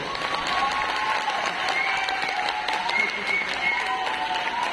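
Sustained audience applause at a millionaire celebration, steady and fairly loud throughout with dense clapping from a large crowd.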